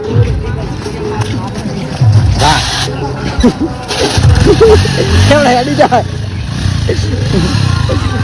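A motorcycle engine starts and runs nearby with uneven revving, beneath lively chatter from several people at an outdoor gathering.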